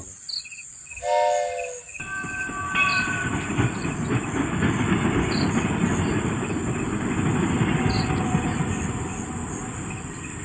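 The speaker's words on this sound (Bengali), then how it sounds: "ট্রেনটা হুইসেল বাজিয়ে আস্তে সুস্তে চলে গেল" A short train whistle sounds, then a train rumbles and clatters steadily as it pulls away, with a high insect drone running throughout.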